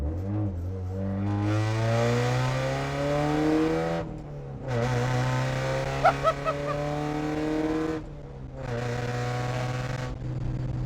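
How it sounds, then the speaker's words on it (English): A 1990 Mazda NA Miata MX-5 race car with a full straight-piped exhaust revs hard and loud, its engine pitch climbing in three long pulls separated by short breaks, with a few sharp pops near the middle. "Full, just straight piped exhaust system."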